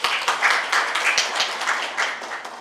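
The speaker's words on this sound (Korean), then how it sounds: "다시 한번 우리 김창수 소장님 축사 박수 한번 부탁드립니다." Audience applause after a congratulatory speech at a founding seminar of a Daejeon policy network, dense clapping from a crowd in a hall, steady and fairly loud with a few sharper claps, tapering slightly at the end.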